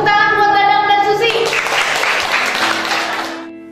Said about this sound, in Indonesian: tepuk tangan buat Dadang dan Susi